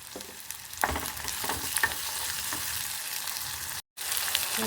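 Curry leaves crackle and sizzle in hot tempering oil for a field bean saru, a steady close hiss with a few sharp pops and a brief cut-out near the end.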